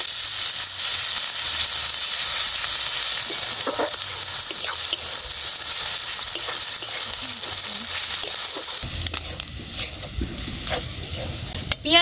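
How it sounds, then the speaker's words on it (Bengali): Garlic paste fries with onions in a pan as part of a chicken curry. A loud, steady sizzle continues throughout, and stirring scrapes and clatters come toward the end. "রসুনটা পেঁয়াজের সাথে একটু ভেজে নেব"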